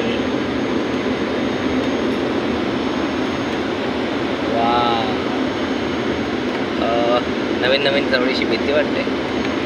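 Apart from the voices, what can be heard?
airplane cabin noise in flight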